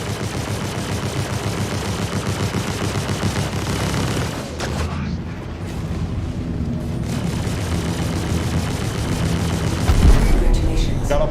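Ship-mounted weapons in Star Citizen fire in a fast, pulsing barrage, with heavy booming blasts layered over a low rumble. There is a short lull midway, then the fire resumes with a loud thump near the end.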